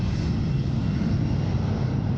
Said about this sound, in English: we literally have the plane about to take off. Oh my god, that's loud.